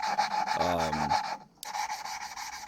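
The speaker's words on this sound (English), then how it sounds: "Time to lap some valves" Engine valves from a Datsun L24 are lapped with grinding compound, making quiet, close, gritty rubbing and rasping strokes in a back-and-forth rhythm with a short pause.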